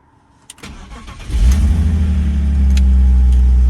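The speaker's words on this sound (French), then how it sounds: "et on va démarrer le moteur." A BMW E46 with an M54B30 engine and SMG pump cranks and catches, then settles into a loud, steady idle after a few clicks and a short starter whir.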